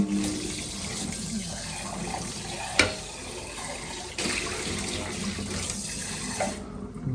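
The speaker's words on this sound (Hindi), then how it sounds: "मुझे अभी समझ नहीं आ रहा है इनमें से कौन सा गर्म पानी निकलेगा किससे" A tap runs steadily into a sink, a loud continuous close-up gush with a brief knock partway through, then the flow cuts off at the end.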